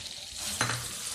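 Spices, curd and ginger-garlic paste fry in hot oil, giving a steady soft sizzle with a brief clink of a spoon against the pan midway; no one speaks.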